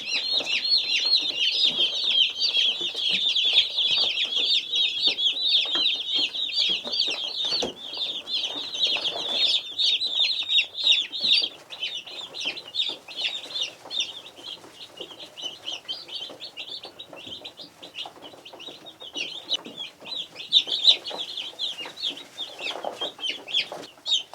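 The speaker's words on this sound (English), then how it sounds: "these 50 Cornish cross chicks will be big enough" Fifty newly delivered Cornish Cross chicks chirp continuously in a dense, high-pitched chorus, close and steady throughout with no talking.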